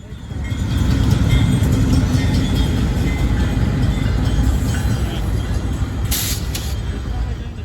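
A Santa Fe GP39-2 locomotive built in 1977 rolls past in Willmar, Minnesota, a loud, close, sustained diesel rumble and rail roar with a brief higher hiss near the end.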